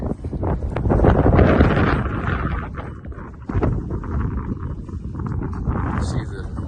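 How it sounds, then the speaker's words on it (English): Strong gusting wind buffets the microphone outdoors at a ranch with quarter horse foals, roaring loud and broadband with surges and a brief lull midway. "Really windy today."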